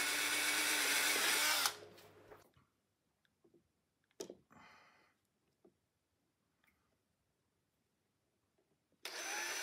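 A power drill whirs loudly for a couple of seconds and stops, drilling screw holes in an old cross-country ski for a binding mount, followed by scattered clicks and handling noises, then the drill starts up again.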